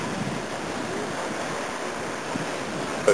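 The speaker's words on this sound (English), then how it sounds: "Lovely beach." Waves wash onto a shallow sandy beach at Kefalos on Kos, a steady broad surf roar mixed with wind buffeting the microphone, continuous and fairly loud throughout.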